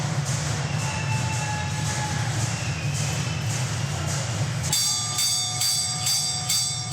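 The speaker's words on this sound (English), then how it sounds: "It's the prison bell," A prison bell rings loud and near, a rapid repeated metallic clanging that cuts in partway, after a stretch of broad rumbling noise with faint high tones; no voices.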